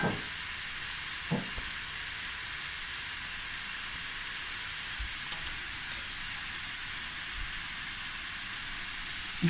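Onions and meat frying in a pot for a cauliflower stew, giving a continuous even sizzling hiss, close and steady, with only a few faint clicks and no talking over it.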